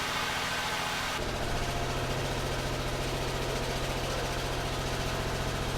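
Engine of a 1989 Buick Reatta idling after an ignition control module replacement, a steady close rumble with an even rhythmic pulse that smooths out after a short change in the first second.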